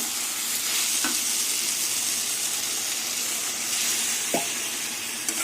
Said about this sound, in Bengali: সয়াবিন আলু মশলা দিয়ে ভালো করে কষিয়ে নেব